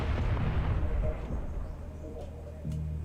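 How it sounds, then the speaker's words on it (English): A truck blowing up in a science-fiction story with blaster fire, a dense, loud rumbling boom that fades slowly, with faint sharp cracks near the end. "A giant explosion while the truck blows up and its parts scatter around the clearing."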